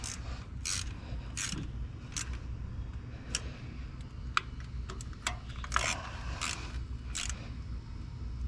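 Bolts on a Scion valve cover being retightened by hand, starting in the middle and working outward: a series of sharp, close ratcheting clicks and metallic ticks in irregular bursts over a low background hum, with no speech.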